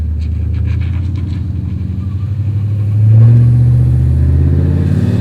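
A cammed Chevrolet Silverado shop truck, running a new transmission still a little low on fluid, accelerates hard through its gears, the loud lumpy engine note building in pitch, dropping briefly at a shift and climbing again.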